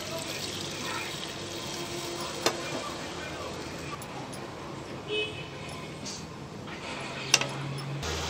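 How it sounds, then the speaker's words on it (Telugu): Water pours into ground spices for a mutton curry, a steady, fairly quiet splashing stream with a couple of sharp knocks, in a kitchen setting. "మసాలాలన్నీ ముక్కలు పట్టినాయి కదండి వాటర్ వేసుకుందాం అప్పుడు"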